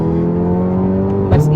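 A Volkswagen Golf R engine hums with a steady harmonic drone from the intake while accelerating, loud and close, rising slightly in pitch before a brief surge at the end.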